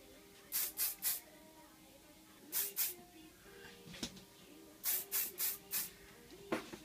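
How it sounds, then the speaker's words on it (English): Hairspray hisses onto back-combed hair in quick bursts: three short sprays, a pause, two more, then four in a row, with a faint click near the end. "just put a little bit of spray"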